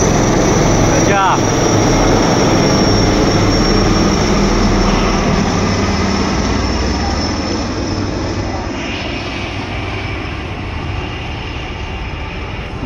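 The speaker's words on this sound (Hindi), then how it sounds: "सभी फाइटर हेलीकॉप्टर हैं और ये देखिए तीन और आ रही हैं यहाँ पे" Fighter helicopters fly over a crowded air show in Prayagraj, a loud continuous engine and rotor roar that stays close throughout before easing slightly toward the end.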